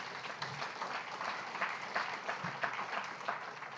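Moderate, steady applause from the audience at a Tucson Humanities Festival poetry reading, many hands clapping together at a middle distance without any voices over it.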